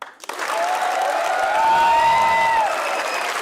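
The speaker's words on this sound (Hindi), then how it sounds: "तो बजाइए तालियां" Steady applause from a large audience, swelling slightly and holding full for several seconds, with a few high whistles riding over the clapping.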